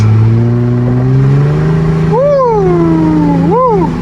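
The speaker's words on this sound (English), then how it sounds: "Hear the exhaust." A car exhaust on a Nairobi street hums steadily, then is revved in two quick blips that rise and fall in pitch, loud and close.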